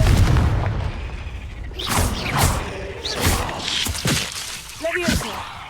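A Confringo fire spell explodes in Hogwarts Legacy, a video game: a low booming blast at the start followed by several sharper cracking impacts and whooshes in quick succession, loud and close.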